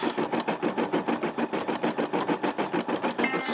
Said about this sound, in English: Stitching out the bunny rabbit eyeballs.